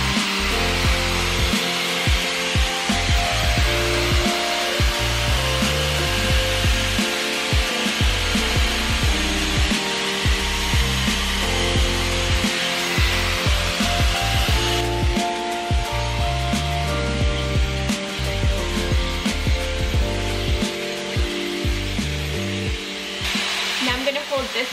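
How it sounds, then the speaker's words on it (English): Hot air brush, a blow dryer and round brush in one, drying and smoothing hair with a loud, steady whirring blast throughout, with faint rubbing and brushing textures over it. "this is basically like a blow dryer and a round brush all in one"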